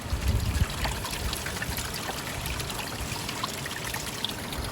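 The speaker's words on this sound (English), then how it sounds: "A little bit of water. I'm going to wash that into it." Water trickles and pours steadily to wash gravel through a small prospecting sluise setup at a Yuba River gold-prospecting outing, a continuous close splashing flow with a louder burst at the start.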